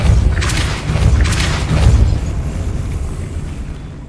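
A Depulso spell goes off in Hogwarts Legacy on PS5 as a loud, booming blast with a rumbling low-end burst, a second thump shortly after, then a fading tail.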